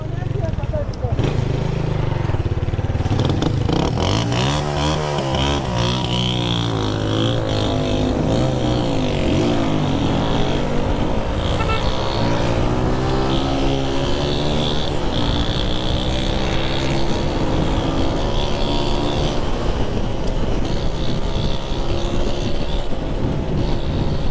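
Motorcycle engines on a Jamaican bike-life ride, loud continuous revving and roaring with rising and falling pitch throughout, under occasional shouted talk.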